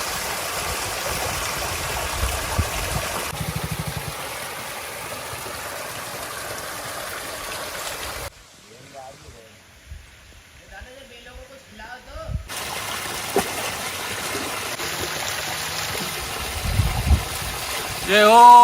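Narmada river water spills from a spring pool in a forest, flowing with a steady rushing and splashing that drops to a quiet trickle midway before swelling back, with occasional voices nearby.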